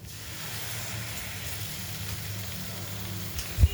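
Cashew paste sizzles in a hot pan for prawn malai curry, a soft, steady hiss close by, ending with a single low knock.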